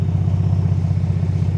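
A 2026 Ford Bronco Raptor in shelter green on 37-inch tires idles steadily nearby in Baja drive mode, a low, even engine rumble with a regular pulsing beat and no revving.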